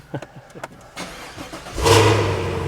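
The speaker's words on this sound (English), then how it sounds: "Got a great exhaust note on it." A few faint clicks and shuffles, then a 2022 Cadillac CT5-V Blackwing engine cranks and fires into a loud, steady, throaty idle close by.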